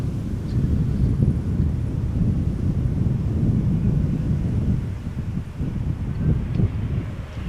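A KLM Embraer 190 landing on runway 36 right at Amsterdam Schiphol on a summer evening: a steady, broad low rumble of jet engine and wind noise sustained throughout, heard from a distance with no voices.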